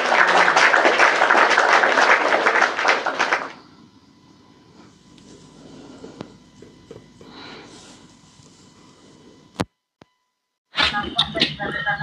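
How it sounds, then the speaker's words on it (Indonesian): A dense burst of audience clapping for a debater at a religious debate, loud for about three seconds before fading to near-silence, with a few faint scattered noises and a short sharp sound afterward. "Tepuk tangan buat Bang Umi kakak yang cerdas dan manis."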